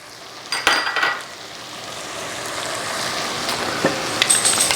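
Shrimp with minced garlic, fresh parsley and green onions sizzle in a pan, a close steady frying hiss broken by a few utensil scrapes and pan knocks.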